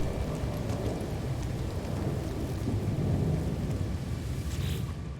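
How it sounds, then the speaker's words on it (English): Toxic storm in the No Man's Sky video game: steady heavy rain with a continuous low thunder rumble, loud and unbroken throughout, with no talking. "Unless we're now getting a toxic storm module thing again."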